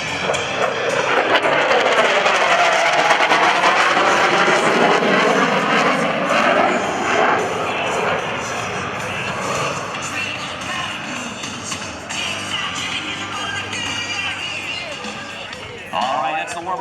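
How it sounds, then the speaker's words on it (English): A Grumman EA-6B Prowler jet dives toward airshow center at around 500 knots, a loud roaring sweep that rises and fades, with an announcer talking over it. "dive that airplane all the way down to Airshow Center, achieving speeds right around 500 knots"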